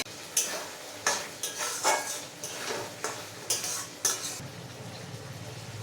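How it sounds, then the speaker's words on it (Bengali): Fried potatoes are tossed into a sizzling curry masala in a pan for a vegetarian chhena kofta curry, with about a dozen close, rhythmic stirring scrapes and clinks over a steady frying hiss. "কষানো হয়ে গেছে এখন ভেজে রাখা আলুগুলো দিয়ে দেবো"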